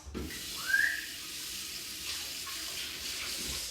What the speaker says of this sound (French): j'ai mal lavé ma poêle. Je relave un petit peu.